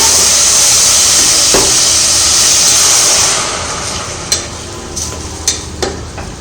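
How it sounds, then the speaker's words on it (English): Tomatoes frying with onions in a pan for vegetable soup give a steady close sizzling hiss, which eases after a few seconds and is then broken by a few sharp utensil taps and stirring clicks. "Now you can add tomatoes and fry"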